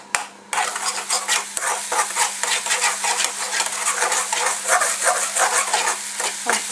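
Scrambled egg (egg thoran) stirred in a hot pan with the back of a spoon: a steady sizzle with repeated soft scraping strokes, close and fairly quiet, no talking.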